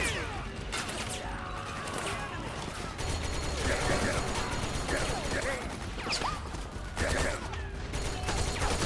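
Dense, continuous video-game gunfire crackles through the whole stretch as rapid overlapping shots and bursts, loud and close, with a voice talking over the battle.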